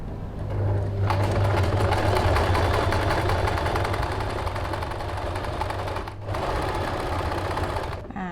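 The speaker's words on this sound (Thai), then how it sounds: "แล้วคราวนี้ก็มาเปลี่ยนฝีเข็มแบบนี้ เราก็เย็บลงมาจนสุดปลายเลยค่ะ" A sewing machine stitches a blouse seam in a loud, steady, rapid run, pausing briefly once near the end before it resumes.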